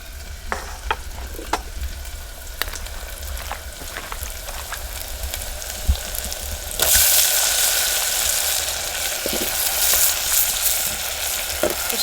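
Eggplant (brinjal) and crushed ginger frying in a pan, a low crackle with scattered spoon clicks that swells into a louder, fuller sizzle midway once more goes in.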